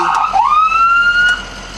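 A loud siren rises sharply and holds a high wailing tone, with a brief yelp-like chirp at the start, close and alone.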